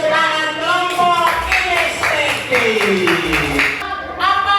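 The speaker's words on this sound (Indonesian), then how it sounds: "Mari tepuk tangan kelompok" A classroom group bursts into rhythmic applause, a run of sharp claps in steady time, while voices sing and chant over it before and after.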